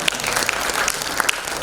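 An auditorium audience at a speech event at Ravindra Bhavan, Baina, Vasco, Goa, breaks into loud, dense, sustained applause with sharp individual claps throughout.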